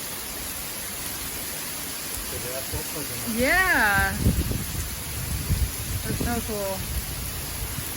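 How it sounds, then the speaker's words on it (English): Heavy rainstorm pours onto open water beside a floating tiny house at Boca Grande, Florida, a dense steady hiss throughout, with someone briefly talking excitedly over it midway. "From all the rain just hitting it,"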